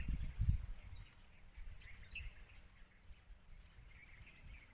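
Faint outdoor birdsong at a goat pasture, with scattered chirps and calls coming from different directions over a low rumble of wind, no one talking.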